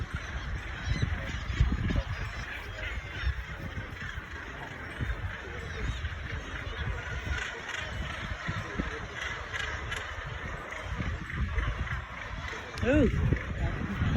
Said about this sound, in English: Gannets, are they?